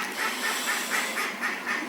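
Bob the duck calling outdoors after a thunderstorm, a run of repeated nasal honking cries in a steady rhythm, fairly close and loud, with no talking.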